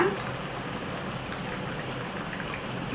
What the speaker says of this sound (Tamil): நாலு தண்ணி ஊற்றணும்லப்பா